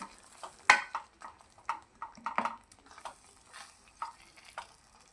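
Roasted brinjal bhaji being stirred in a pan: a series of close scraping and clinking spatula strokes against the pan in an irregular rhythm, over a faint low sizzle, without voices.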